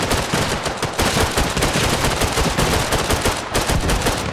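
Dense gunfire in the military video game Arma Reforger, with rapid overlapping shots and bursts rattling continuously and loudly throughout.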